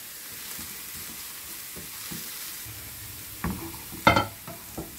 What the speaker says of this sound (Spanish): Y vamos a saltear hasta que esté pochadita